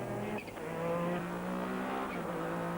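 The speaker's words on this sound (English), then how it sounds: "Just an awesome sound from this Porsche, the GT1." A Porsche 911 GT1 race car in 1998 British GT racing holds a steady, droning engine note at speed under a dense, noisy mix of track sound, with a brief dip in pitch partway through.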